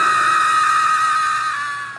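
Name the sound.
disturbing scream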